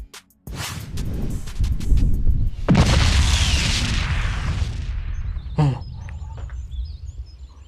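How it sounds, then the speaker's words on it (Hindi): A firecracker bomb explodes with a single sharp, loud blast that leaves a long, noisy rumbling tail, and a second, smaller crack follows a few seconds later. "अब देख इस बम का कमाल।"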